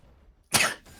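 A single sneeze from an esports caster during a live broadcast: one short, close, breathy burst that bursts out of near silence and fades quickly.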